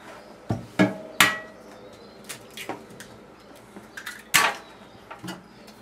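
Two eggs are cracked against a bowl holding a cup of flour for crêpe batter, producing a few sharp, close taps and cracks, mostly at the start and one more a few seconds later, with soft handling sounds.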